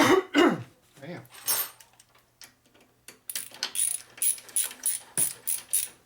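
Ratchet clicking away at a long bolt on a Harley Evo rigid chopper, a run of short rhythmic bursts in the second half after a throat clear and some mumbling near the start.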